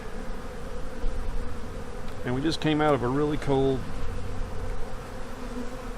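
Honey bees swarm over a frame lifted from a hive just out of winter, a steady close buzzing that runs throughout, with a voice talking over it partway through.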